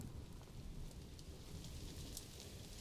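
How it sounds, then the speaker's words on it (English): Rain falls steadily in the video game Planet Zoo, a continuous quiet hiss of rainfall with occasional faint rumbles underneath and no voices. "Of course it's got to start raining."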